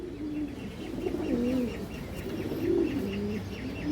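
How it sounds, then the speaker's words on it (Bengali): A pigeon, a lively fancy breed, coos softly in repeated low, rolling phrases close by, with faint chirps above and a steady background hum. "খুবই চঞ্চল একটা কবুতর"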